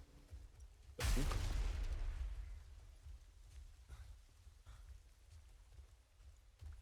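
Rain falling in Diablo 4 sweeps in suddenly as a loud hissing burst, then settles into a quieter steady patter with occasional soft thumps, and no one speaks.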